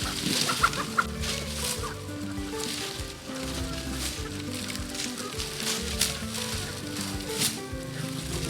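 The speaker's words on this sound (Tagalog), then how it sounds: "Ililipat na natin yung ating mga manok." Backyard chickens clucking and squawking while being moved to another flock, a busy continuous chorus of close, overlapping clucks with occasional rustling and sloshing.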